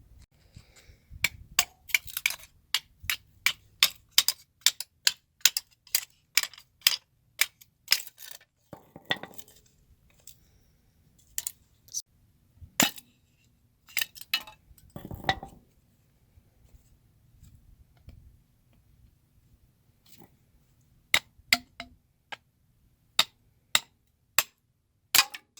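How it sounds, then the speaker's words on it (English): Sharp, isolated cracks and knocks of a camp knife being driven into firewood with a sledgehammer, struck in quick bursts with pauses between, close by and fairly quiet. "We're going to be using our camp knife and our sledgehammer."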